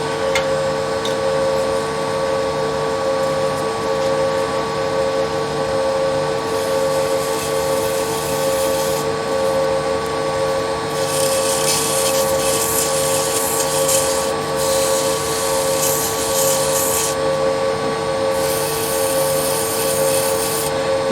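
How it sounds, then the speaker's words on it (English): Abrasive paper rubs steadily against a turned wood finial spinning on a lathe. A constant motor hum runs underneath, with hissing sanding strokes that come and go in several passes. "now we'll come back and sand in this area"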